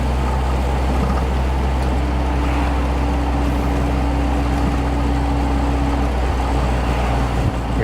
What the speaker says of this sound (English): Here's a double clutch from third to second